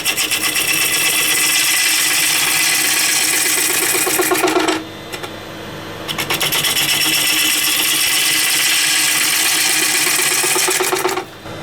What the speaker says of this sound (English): I'm just going to do a push cut, handle down,